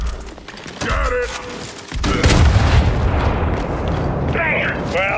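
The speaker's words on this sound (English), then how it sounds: "Bombs about to blow!" Bombs detonate in Gears 5 with a loud, deep blast about two seconds in, followed by a rumbling roar and debris, while voices shout around it.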